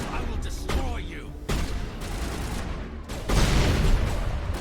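Gunfire in the sci-fi video game Mass Effect: a few loud shots and blasts stand out over dense, noisy combat ambience, with brief speech mixed in.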